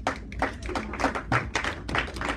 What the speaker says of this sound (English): let's clap for